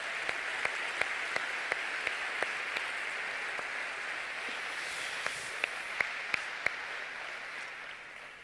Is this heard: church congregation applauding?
yes